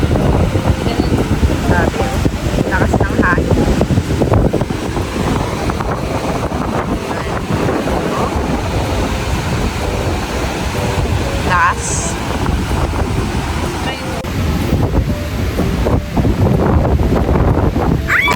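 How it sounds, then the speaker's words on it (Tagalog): Strong wind buffets the microphone at the beach front in San Juan, La Union, over a steady roar of surf and crashing waves, loud and continuous throughout. "dito kami sa mismong front ng beach"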